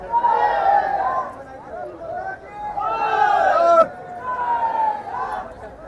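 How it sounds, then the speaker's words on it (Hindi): A large, dense crowd gathered at the Adiyogi statue, with steady overlapping chatter and voices in a busy outdoor hubbub, loud and continuous throughout. "पूरा एकदम खतरनाक भीड़ है ये"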